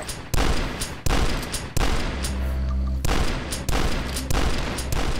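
Repeated shotgun blasts from the retro shooter game Dusk, six loud booming shots at a steady rhythm about a second apart, with low rumble in between and no talk.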